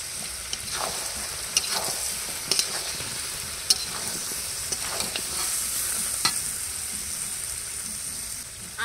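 Chicken curry frying in a pan as potatoes go in, a steady sizzle under repeated scraping and clinking stirs, sharp utensil taps scattered through, close and alone.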